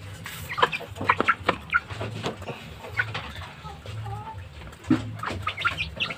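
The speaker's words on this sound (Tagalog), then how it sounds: "So maganda tong mga alagang sisiw natin, no?" Pet chicks on dry ground cluck and peep in short, scattered bursts near the microphone, with faint pecking taps and brief soft wing flutters mixed in.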